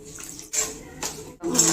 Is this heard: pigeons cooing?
no